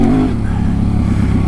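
Yamaha Tenere 700 (T7) motorcycle engine pulling hard under throttle, a loud, steady low rumble that holds through the whole short stretch, with a slight pitch rise near the start.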